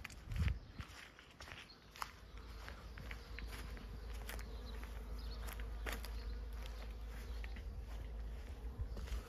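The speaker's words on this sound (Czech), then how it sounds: "Tak backfastky se pěkně rozlítaly teďka." Buckfast honeybees flying around their hives, a continuous close buzzing hum with individual bees zipping past, along with occasional soft footsteps and handling noises nearby.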